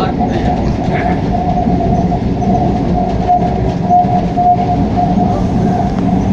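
A train passing in Kolkata, heard as a loud continuous rumble with rattling carriages and a faint tonal whine throughout, steady and close.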